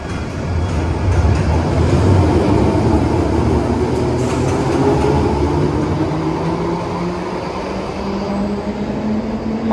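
A London Underground train rumbles steadily, with rising and falling motor whine and a constant low roar of wheels, close and loud throughout.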